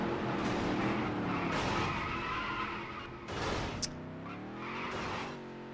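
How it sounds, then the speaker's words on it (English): A race car in the NASCAR Dirt to Daytona video game slides with squealing, scrabbling tires and a revving engine, followed by a sharp impact and another skid as the engine climbs again, loud and up close. "Never mind, I have wrecked a car."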